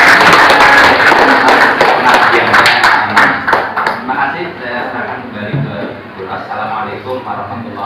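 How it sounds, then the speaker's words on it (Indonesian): An audience at a history teachers' forum claps, a burst of applause that starts loud and thins out over several seconds, with voices talking over it. "Saya mohon tepuk tangan untuk Bu."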